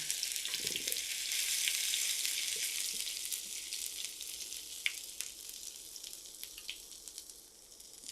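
Chopped ginger fries in oil for a kolai greens dish, giving a soft, steady sizzle with a low thud near the start and faint scattered pops and ticks.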